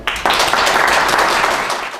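Audience applause at a Konya gathering for the "Yuvalar Kuruyoruz" event: a dense, steady burst of many hands clapping starts abruptly and continues loud and sustained without pause.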